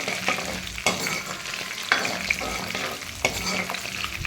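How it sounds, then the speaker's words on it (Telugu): Roasted gram (putnala pappu) is stirred in a hot pan with green and dried red chillies, giving a soft background sizzle broken by several sharp scraping stirs, close and without talk. "పుట్నాల పప్పు వేసుకున్నాను. ఇట్లా మంచిగా వేయించుకోవాలి."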